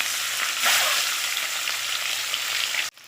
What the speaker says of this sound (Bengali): তেল দিয়েছি, তেল গরম হয়ে গেছে, আমি দিয়ে দেবো ডিমগুলো, দিয়ে দেবো ডিমগুলো ভেজে নেব।